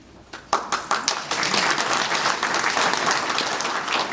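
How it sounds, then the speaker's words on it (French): Audience applause at a French ceremony honoring a section president of Guerlain; a few scattered claps swell quickly into sustained, dense clapping from a sizeable crowd. "Je tiens aussi à vous applaudir"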